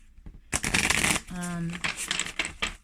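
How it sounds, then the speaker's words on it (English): Cards riffled and bridged in a quick burst, crisp papery flutter close up, with a voice talking alongside and a brief tonal hum partway through. "So anyway, I've shuffled the deck."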